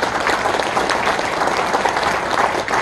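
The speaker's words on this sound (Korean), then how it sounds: "다시 한번 박수 드립니다." Sustained audience applause in a National Assembly members' office meeting room at a founding ceremony, dense steady clapping from a crowd filling the whole stretch without pause.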